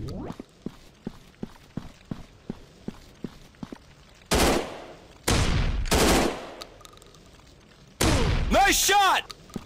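Gunfire in an FPS shooting game rings out as a run of evenly spaced single shots, then three loud sustained bursts, close and forceful, with a short electronic effect in the last burst.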